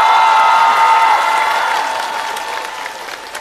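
Studio audience applause on the Chinese stand-up comedy show Rock & Roast (脱口秀大会) as a comedian is welcomed onstage: a dense, loud wash of clapping that gradually thins and softens toward the end.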